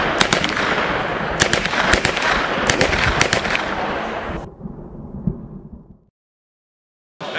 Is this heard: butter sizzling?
no